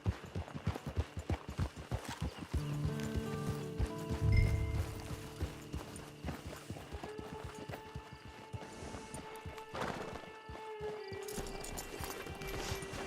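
A horse in Red Dead Redemption 2 runs with rapid, rhythmic clip-clop hoofbeats throughout, set against a bed of game ambience and a few tonal sounds, with no talking.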